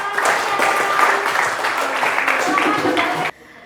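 Applause in a classroom: a steady wash of clapping from a group of students, fairly loud and continuous for about three seconds before cutting off abruptly.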